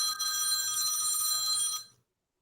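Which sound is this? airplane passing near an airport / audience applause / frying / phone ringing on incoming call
phone ringing on incoming call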